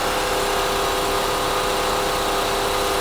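A Mercedes W123 230E engine idles roughly under air-conditioning load after fuel distributor repair, giving a loud, steady hum with a continuous drone and no speech.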